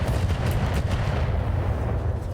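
Booming video game explosions and rapid gunfire-like blasts rumble heavily and continuously, loud and close, with crackling bursts layered over a deep low-end roar.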